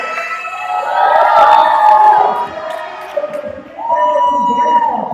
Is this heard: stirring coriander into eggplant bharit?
no